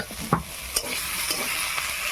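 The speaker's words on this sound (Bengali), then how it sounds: "ভেজে নেব যেগুলো সব ভাজা ছিল" Vegetables frying in oil in a village kitchen pan, including bottle gourd greens, potato and ridge gourd, give a steady sizzle. Four evenly spaced stirring scrapes cut through it over about two seconds, with no voices.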